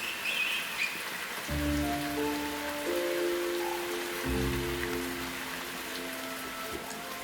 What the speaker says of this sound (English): rain is very wet